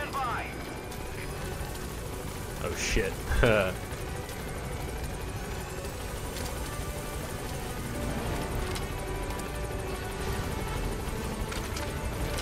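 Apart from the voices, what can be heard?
helicopter arriving at landing zone in Metal Gear Solid V video game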